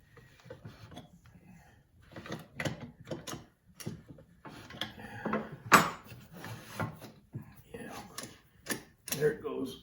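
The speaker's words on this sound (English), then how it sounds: "you've got to keep tightening that nut so it doesn't loosen up" Ratchet tightening a nut on the pull start of a Mercury 20 hp outboard motor during a repair: irregular runs of close, sharp mechanical clicks and metallic ticks, with some talk mixed in.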